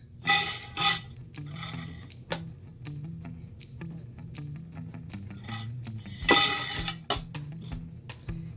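The metal inner pot of a Pampered Chef Quick Cooker is handled close by, giving a few sharp clanks and clinks with quieter rattling and knocking between them, and no talking.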